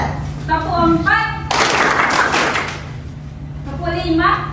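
In a classroom clapping game, a group claps together in one loud burst of quick, overlapping claps, with a single voice speaking before and after it.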